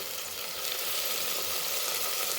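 Chopped tomatoes fry with onion and ginger-garlic paste in a pan, giving a loud, even sizzle that holds steady from start to finish.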